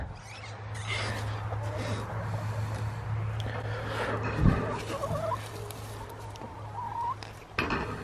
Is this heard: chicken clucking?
yes